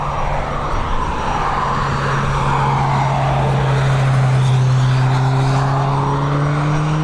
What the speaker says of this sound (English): next up, we have this Embraer Legacy 500